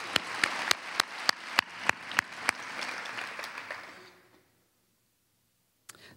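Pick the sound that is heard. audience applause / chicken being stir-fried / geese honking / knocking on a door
audience applause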